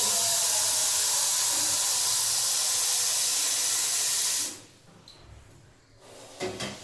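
A pressure cooker heating water for dal lets out a loud, steady jet of steam that hisses for about four and a half seconds, then stops abruptly and leaves quiet kitchen clatter.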